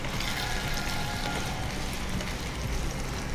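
Water pours steadily into a cooking pot, two cups for every cup of rice for ghee rice, making a continuous close splashing rush with no voices over it.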